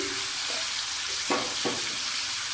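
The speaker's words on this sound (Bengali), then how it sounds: "আমি এটাকে ভালোভাবে ভেজে নেব" Chopped pointed gourd seasoned with salt and turmeric fries in a pan as a steady, dense sizzle, with two brief scraping stirs standing out near the middle, close and even throughout with no voices.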